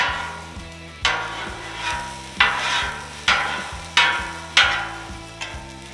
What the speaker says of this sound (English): Okay, green peppers, onions, and garlic are done. Give them a quick flip.